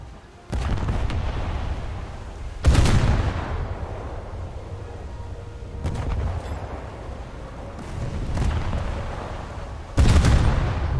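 Naval ship guns fire in a video game battle, several heavy booming salvos spaced a few seconds apart, each with a loud low blast and a long rumbling decay over a continuous background roar.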